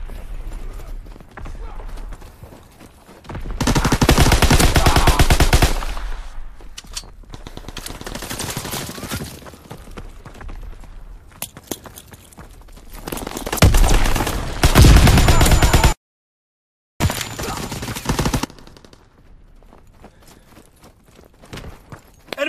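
Bursts of automatic gunfire laying down suppressing fire in a military shooter game, loud clattering volleys in long stretches with quieter gaps and a brief dropout, game voice callouts mixed in.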